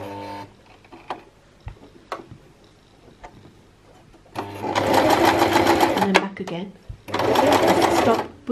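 A sewing machine stitches a seam in two bursts of rapid, loud whirring, preceded by quiet clicks and handling, with a short stop between bursts where it reverses to secure the stitching; someone talks in between.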